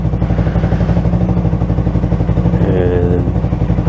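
A Yamaha R3 motorcycle fitted with an M4 Street Slayer exhaust runs loud and close, its deep, steady pulsing drone holding throughout with a slight rise in tone partway through.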